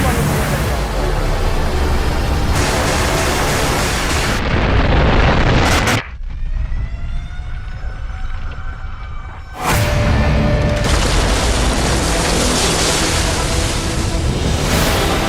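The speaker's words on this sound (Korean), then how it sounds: "백두산 화산이 폭발했습니다." A massive volcanic eruption of Baekdu Mountain in the Korean disaster film Ashfall: loud, roaring blasts and rumble fill the clip, broken by a brief quieter, hissing stretch before the thunderous roar returns.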